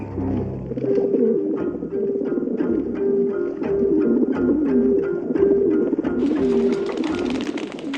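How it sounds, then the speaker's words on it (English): Pigeons coo in a steady repeating rhythm close by, several birds overlapping throughout, with a brighter rustle joining near the end. "Lived around here all my life. Never saw a single pigeon before."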